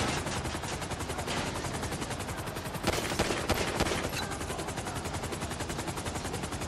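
Gunfire in Grand Theft Auto V rattles continuously in rapid automatic bursts, loud and dense throughout with a heavier flurry in the middle, with no voices.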